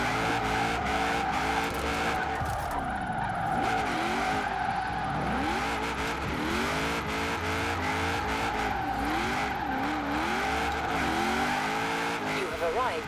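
A 1000 hp Holden Commodore Group A drift build in Forza Horizon 4 slides with steady engine drone and wavering, rising and falling tire squeals throughout, with a voice talking over it.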